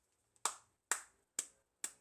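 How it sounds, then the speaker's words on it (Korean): Four sharp, separate claps or hand snaps at an even rhythm, close and fairly quiet, each with a quick decay, in a home setting with no talk over them. "박수"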